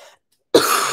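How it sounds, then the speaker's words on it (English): A single sharp, loud cough bursts out after a moment of near silence, followed by a second cough starting right at the end. "Sorry, I'm fighting off a cough."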